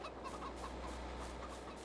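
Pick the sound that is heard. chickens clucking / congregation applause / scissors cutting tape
chickens clucking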